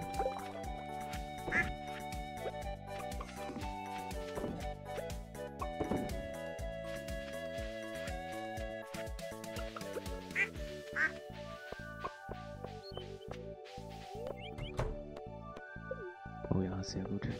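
Chicken clucks from a Stardew Valley farm scene, heard as repeated short bird calls over steady game music, with a person talking throughout.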